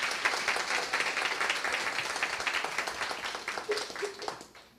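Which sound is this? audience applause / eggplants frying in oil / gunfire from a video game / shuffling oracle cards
audience applause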